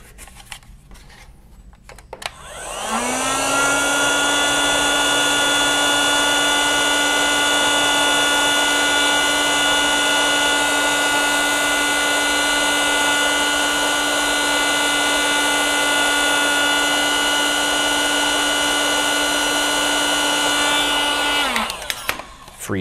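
A heat gun warms a part of a 1920s Monroe model K mechanical calculator, starting after a short pause and holding a loud, steady, whining roar with a constant high hum for about twenty seconds before cutting off.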